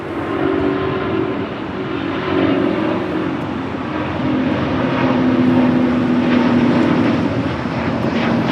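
An Etihad airliner rolls down runway 25 Right at Los Angeles International, a steady, fairly loud engine roar with a low drone that swells slightly toward the end, no voices.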